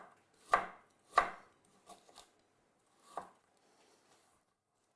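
A knife slicing galangal on a cutting board while preparing chili sesame oil, two firm chops followed by a few softer cuts and one more thunk, close and isolated in a quiet kitchen.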